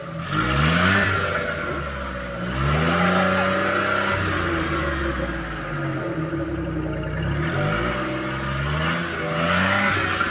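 A Suzuki Scrum engine revs up and down repeatedly, each rise a rising whine that falls back toward idle, close and loud with no talking.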